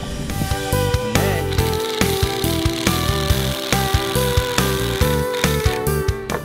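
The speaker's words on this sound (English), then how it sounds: "First, you take your drill, and you start drilling, nice and slow." A power drill drives a screw in short repeated bursts of whirring motor, loud and close, with a rhythmic start-stop pattern and no talking.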